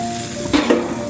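Steaks and foil-wrapped green onions sizzle on a home grill at a family New Year's Day dinner, a steady close hiss with two brief louder flares of searing midway.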